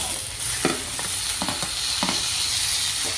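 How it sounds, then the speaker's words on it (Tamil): Onion with ginger garlic paste sautéing in a pan for squid gravy, with a constant hiss of frying and a few short scraping strokes of a spatula stirring, close and fairly loud, with no talking. "இப்போ இதை சேர்த்து வதக்குவோம்."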